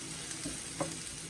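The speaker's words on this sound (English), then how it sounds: "Sautéin na natin yung ating onion garlic." Onion and garlic sauté in hot olive oil, giving a steady close sizzle with a couple of soft stirring knocks over a little more than a second, and no talking.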